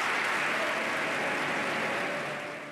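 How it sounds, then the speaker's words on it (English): A large crowd gives a speech a standing ovation, with dense, sustained clapping that fills the space and gradually fades toward the end. "And he gets 29 or 39 standing ovations."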